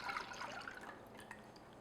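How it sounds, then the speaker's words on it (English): Whole milk and light cream pour into a saucepan in a brief, faint, liquid splash and trickle that quickly tapers off. "So I'm just going to put this into our saucepan."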